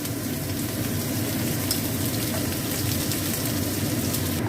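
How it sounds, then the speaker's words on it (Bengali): Chopped onion and garlic fry in hot oil in a pan, making a loud, dense, continuous sizzle close up with no voices. "পেঁয়াজ এগুলো এবার ভাজবো আমি, এটা ভাজবো আমি। আর একটু তেল দিয়ে দিলাম।"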